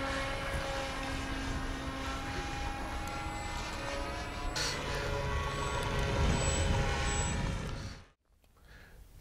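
RC model Junkers Ju-52 plane flying in to land, a steady propeller and engine drone that holds fairly even, then cuts off abruptly near the end, leaving quiet.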